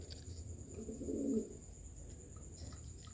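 A pigeon gives a single low, soft coo about a second long, nearby, over a steady high-pitched hiss and quiet room background.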